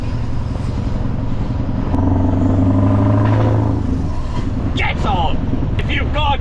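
A Scania V8 truck with a straight-piped exhaust rumbles loudly at close range and revs up in a deep, sustained roar. Talking and a few sharp clicks come in near the end.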